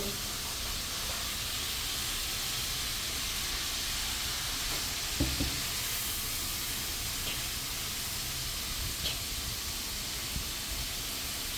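Ginger sizzles in sesame oil while being stirred for sesame oil chicken, a steady broadband hiss with occasional soft clicks of the utensil, continuous and fairly close.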